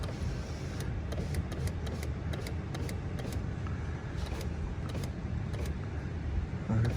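A car's power window, fitted with WeatherTech side window deflectors, rolls up slowly under a steady low motor hum, with faint intermittent clicks and ticks and no speech.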